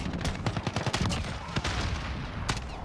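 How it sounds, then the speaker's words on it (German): Single gunshots from an FAL semi-automatic rifle in a first-person shooter, fired one at a time in a quick irregular string of sharp reports over steady game background noise. "weil man jeden Schuss einzeln abfeuern muss"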